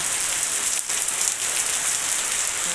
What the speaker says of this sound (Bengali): ভালোও লাগছে বৃষ্টিটা এখানে দাঁড়িয়ে দেখতে